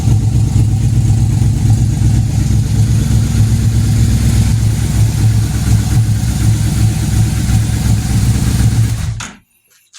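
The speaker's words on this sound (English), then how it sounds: "All you hear is that rumbly exhaust the way it should be." A Yamaha Royal Star motorcycle exhaust idles with a steady, deep rumble, close and loud, before cutting off abruptly near the end.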